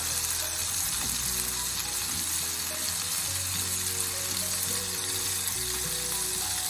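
Monkfish pieces frying in an oiled pan for risotto, a constant close hissing sizzle with faint crackles and scraping, steady throughout with no talking.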